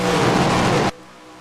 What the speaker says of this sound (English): see the cars heading down the back straightaway